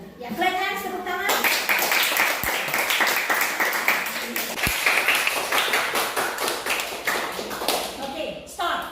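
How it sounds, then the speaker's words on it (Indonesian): Children in a classroom clap their hands together for a group presenting at the front, a dense close burst of claps starting after a short spoken moment and running steadily before tapering off. "Ya, clap hands, tepuk tangan."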